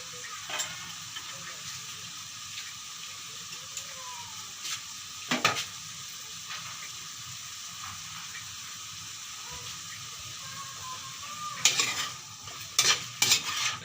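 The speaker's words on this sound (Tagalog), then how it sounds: "Kumukulo na." Steady broadband sizzling and bubbling of food cooking in a pot, with occasional clinks and louder spurts near the end.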